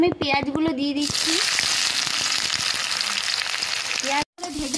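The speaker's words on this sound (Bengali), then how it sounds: "পেঁয়াজটা একটু হালকা লাল করে ভেজে নেব" Onions hiss and sizzle loudly in hot oil in a pan just used to fry small kachki fish, a dense continuous crackle, with someone speaking briefly before and after.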